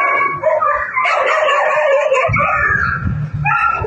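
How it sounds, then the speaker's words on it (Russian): Stray dogs in a city street, a roaming pack near a school, barking and yipping repeatedly in an irregular run of overlapping calls, fairly close and loud against street background. "беспризорные собаки у образовательных учреждений бегают круглосуточно, говорят жители, как и по улицам"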